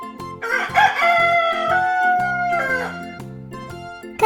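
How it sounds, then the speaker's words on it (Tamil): A rooster crows a long cock-a-doodle-doo, loud and close, over a steady rhythmic instrumental backing with no speech. "கோழி எப்படி கத்தும்?"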